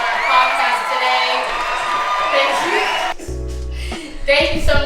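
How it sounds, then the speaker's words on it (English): A studio crowd cheers and whoops for a podcast guest, loud and busy, with shouting voices over music and a deep thumping bass hit partway through. "Let's give a round of applause to Bella."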